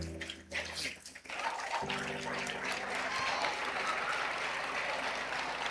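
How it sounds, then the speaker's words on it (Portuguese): Church congregation applauding in a steady, dense wash of clapping that swells after a brief pause and holds loud and continuous to the end. "Você pode aplaudir o Senhor por isso?"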